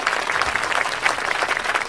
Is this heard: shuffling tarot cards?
no